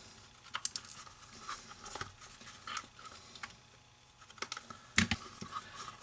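Paper edges being trimmed for a handmade card box, with light crisp snips, rustles and taps coming in irregular bursts, close and fairly quiet, with no talk.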